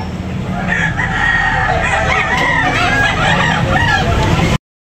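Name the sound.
rooster chickens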